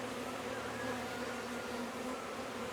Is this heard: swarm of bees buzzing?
yes